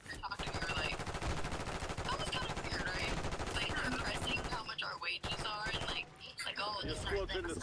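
Rapid automatic gunfire in Call of Duty Warzone, loud bursts of shots crackling almost nonstop with short gaps, mixed with game effects and players talking over it.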